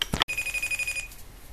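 A telephone rings once with a short electronic tone lasting under a second, preceded by a couple of quick clicks and followed by quiet.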